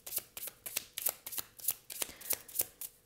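A new tarot deck is shuffled by hand in quick, regular riffles, with about a dozen crisp, close card-flutter bursts following one another in a steady rhythm.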